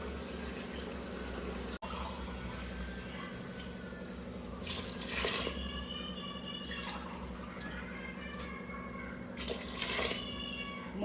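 Three cups of water poured into rice for a palak and soya pulao, steady trickling and splashing with a couple of louder gushes over a constant background hum, close and without talk.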